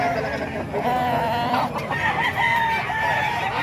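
A gamefowl rooster crows near the listener, its wavering cry rising over a busy, noisy background with people talking around it.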